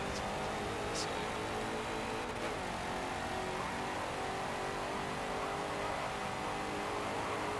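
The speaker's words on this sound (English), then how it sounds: "I tell you what though, this car might be bottoming out." Race car engine in the Forza 7 video game, a steady loud droning roar held throughout with no clear revving peaks, with voices chatting over it.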